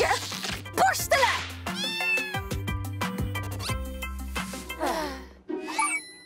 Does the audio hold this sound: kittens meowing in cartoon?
yes